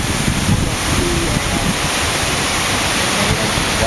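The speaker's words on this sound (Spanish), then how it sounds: "Ahora está cayendo el agua." Loud, steady roar of a large waterfall in Trinidad, water crashing continuously with a dense broadband rush and no pauses, close to the listener.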